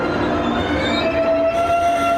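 Train departing Daejeon station on a conventional Korean line, a loud rumbling roll with a sustained tonal whine rising in as it pulls away.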